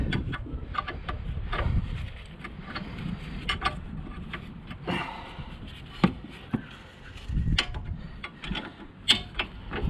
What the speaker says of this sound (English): I've got offset spanner to give me a bit more of the old leverage.